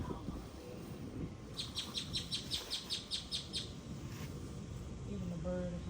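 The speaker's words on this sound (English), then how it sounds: "Even the bird agreed." A small bird gives a quick run of about ten bright, rhythmic chirps at moderate distance, while someone talks quietly in the background.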